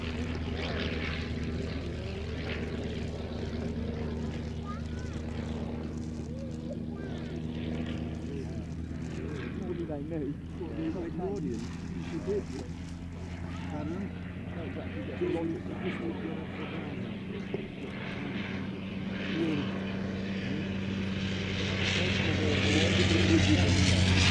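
A vintage propeller aircraft derived from the 1912 Avro 500 flies a solo display at an air show, its steady engine drone running under continuous commentary and growing slightly louder toward the end.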